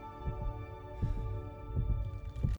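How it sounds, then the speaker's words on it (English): Slow, steady heartbeat thumps, about one per second, over a low continuous hum. "hearing these heartbeats."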